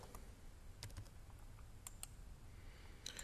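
Values being typed on a computer keyboard, a sparse run of soft key taps and clicks heard faintly over a low steady room hum, with no talking.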